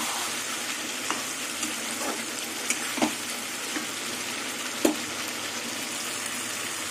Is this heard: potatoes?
yes